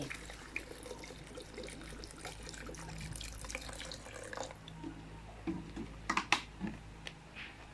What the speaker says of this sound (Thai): น้ำสะอาดที่เตรียมไว้หนึ่งลิตรนะคะ ก็ทยอยใส่